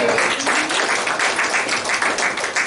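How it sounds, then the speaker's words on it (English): A congregation at a Sunday church service gives a round of applause. The clapping is steady and dense, a continuous wash of many hands that lasts the whole moment. "Give yourself a round of applause."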